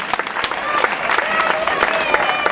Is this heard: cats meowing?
no